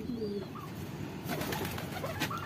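Soft cooing of a male pigeon over a low background hum, with a few faint calls and light rustling toward the end.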